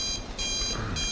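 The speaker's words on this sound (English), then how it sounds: "Alarm!" An alarm clock ringing loudly and continuously, a harsh bright electronic tone pulsing rapidly, heard close and alone for about a second.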